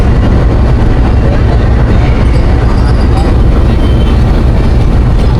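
The 104 DN train with its new rake passes close by on its first run, a loud, continuous rumble of wheels and carriages with rail clatter throughout.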